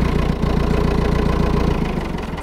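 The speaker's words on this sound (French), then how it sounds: "C'est un beau tracteur que vous avez là, hein ?" An old farm tractor in Provence runs loudly and close by, its engine chugging in a fast, even pulse with a slight drop in tone near the end.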